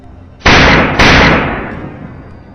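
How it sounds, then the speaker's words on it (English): A gun fires during a wild boar hunt: a loud, sharp blast followed half a second later by a second crack, each ringing into a long decaying tail. "A single, decisive gunshot rings out, sealing off any chance of escape"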